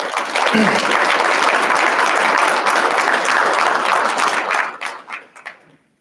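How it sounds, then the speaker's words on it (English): Audience applause for students, faculty and staff during a university address, a full, steady wash of clapping from a large crowd that holds for about four seconds, then breaks into scattered claps and fades to silence. "Let's give them all a round of applause."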